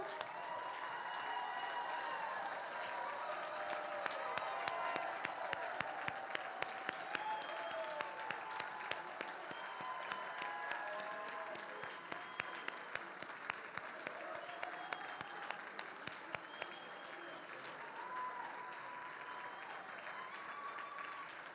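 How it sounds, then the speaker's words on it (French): Sustained applause from a large audience, steady and prolonged with a few louder sharp claps standing out, gradually thinning near the end. "se lever pour qu'on puisse les applaudir une dernière fois"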